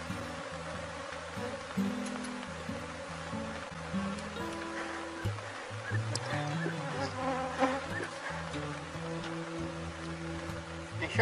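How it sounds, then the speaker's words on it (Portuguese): Honey bees swarm in large numbers around hive boxes, giving a dense, continuous buzzing drone with shifting pitches that holds steady throughout. "Enxames assim, gente, que voa muitas abelhas para todo lado."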